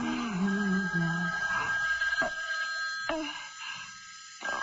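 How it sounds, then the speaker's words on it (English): An old telephone bell rings in a radio drama, heard through poor-quality audio, with a steady tone under the noise and a few sharp clicks. No one speaks. "Oh, it's a phone."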